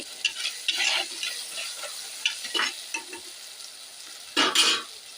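Onion and tomato sauté in a pan for a home-style Tamil fish curry, giving a soft steady sizzle broken by several louder scraping stirs, with the last stir near the end the strongest; no one speaks.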